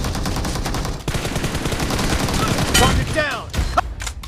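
Rapid automatic gunfire bursts from a shooter video game, dense and loud, with bursts and a few sharp single shots, layered with game effects and faint voice callouts underneath.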